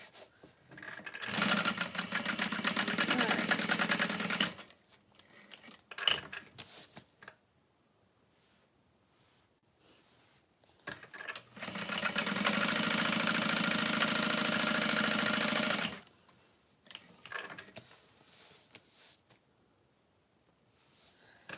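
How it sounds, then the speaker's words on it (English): A sewing machine top stitches a vanity bag in two long, steady motor bursts of about three to four seconds each, close and loud, separated by quiet pauses with small handling clicks. "And then I'm just gonna top stitch in a U."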